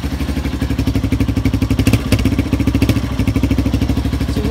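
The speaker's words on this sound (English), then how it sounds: "I have not cranked it up one time today, so started on the second kick" A cold motorcycle engine, just kick-started, runs at a fast, even idle chug, loud and close, its steady thumping pulse holding the whole time.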